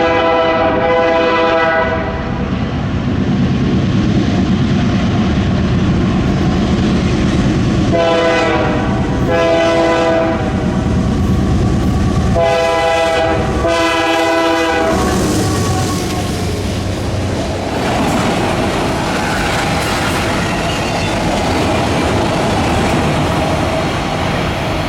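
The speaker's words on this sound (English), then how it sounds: "the crew also gave us an absolutely awesome horn salute" A CPKC freight train led by an unrebuilt CP AC-44 locomotive sounds its horn in a long salute, with several loud blasts and short breaks as it passes close by, the rumble of rail cars continuing after.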